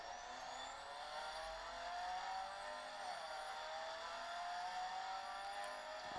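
Racing video game car engine droning steadily at speed, a continuous high whine with rising pitch sweeps as it accelerates, fairly faint with no talk.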